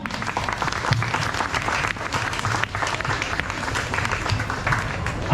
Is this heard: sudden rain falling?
no